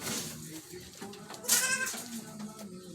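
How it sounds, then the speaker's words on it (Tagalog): A goat at a zoo gives a short bleat, moderately close, over soft bird cooing and outdoor background noise. "Yung kambing guys oh."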